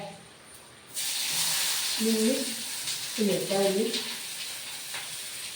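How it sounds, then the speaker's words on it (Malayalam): Sliced onions drop into hot oil for Kannur bonda, and a sudden loud sizzle breaks out, then settles into a continuous frying hiss. A person speaks over the sizzling. "ഇതിപ്പോൾ ഞാൻ ഉള്ളി ഇടട്ടെ."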